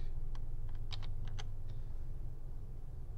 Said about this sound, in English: I'm going to hit return